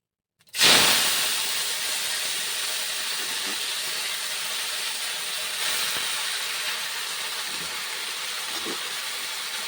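Leafy greens dropped into a hot pan erupt in a loud, sudden sizzle that settles into a steady, hissing fry that carries on to the end, with no talking.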